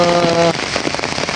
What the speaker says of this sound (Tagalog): madalas na po yung pag-ulan dito sa amin